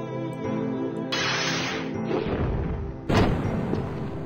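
Special airstrike explosions in Epic Battle Fantasy 2, a dense noisy rumble over game music that swells midway and hits a louder blast near the end.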